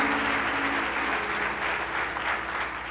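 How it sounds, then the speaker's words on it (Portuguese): A church congregation applauding together, a full, sustained burst of clapping with a faint murmur of voices beneath, swelling slightly and continuing steadily for three seconds. "Será que você pode aplaudir Jesus"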